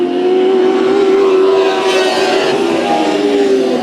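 Several race cars roar around the oval at Bakersfield Speedway during a heat race, a loud, steady engine drone with rising and falling pitch as cars hold close together, continuous throughout.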